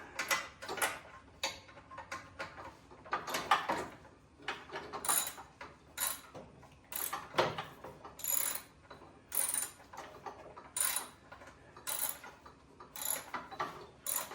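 Ratchet wrench tightening bolts on a snowblower, repeated rhythmic clicking strokes in steady bursts, close and clear with no talking.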